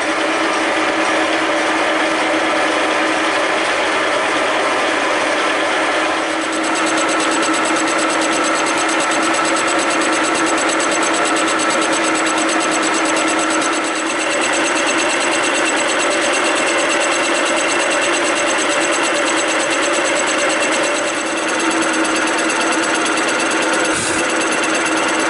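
An experimental fly cutter takes a 0.2 millimeter cut on a machine running at 475 RPM, giving a loud, steady mechanical whir and chatter that continues for the whole stretch with no talking.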